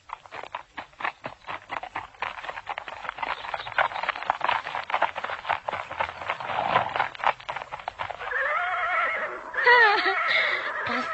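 Horses neigh loudly and close by at the end as riders on horseback pass, a girl on horseback escorted by ten men, after a long stretch of busy rhythmic hoof clatter and movement.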